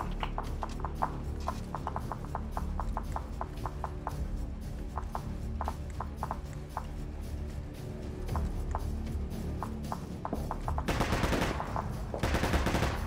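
An RPK machine gun fires in a video game, with rapid, evenly spaced shots in steady bursts and a denser, louder stretch of fire near the end.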